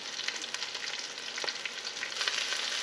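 Beef sears in a single pot for beef burgundy, giving a steady, close sizzle and crackle of frying that runs throughout, with faint stirring or shifting sounds and no talking.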